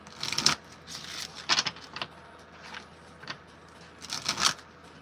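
Tarot message cards are shuffled in a few quick, close riffling bursts separated by short pauses, with no talking over them.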